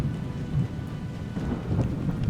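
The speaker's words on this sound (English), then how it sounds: "When the rains fall over Uluru, it is an extraordinary sight." Rain falls over Uluru in the Australian outback, a steady hiss of drops on the surface with deep, rolling thunder rumbling underneath throughout.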